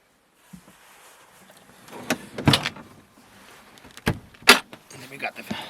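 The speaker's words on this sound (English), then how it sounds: "A couple drawers here that pop in and out." Several quick sliding clunks and thumps of drawers pushed in and pulled out in a 1979 Mercedes Westfalia camper van, close by with quiet pauses between.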